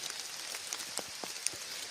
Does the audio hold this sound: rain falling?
yes